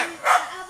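A single short dog bark, a brief yip, rises out of low background murmur, moderately close and quick, amid casual surroundings with people nearby.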